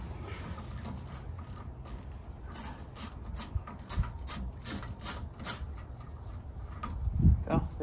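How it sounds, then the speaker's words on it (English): A castle nut is worked off the front brake of an MGB with hand tools: steady scraping, rasping metal sounds with a repeated faint ratchet-like clicking, fairly close, with a heavier clunk near the end. "Next, I'm going to take off this castle nut."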